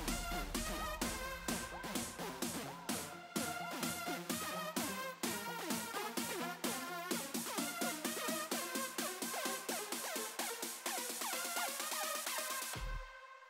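Reversed music used as a ghost effect in EDM production, a dense, steady rhythmic stream of swelling reversed hits and tones that runs continuously and then cuts off abruptly near the end.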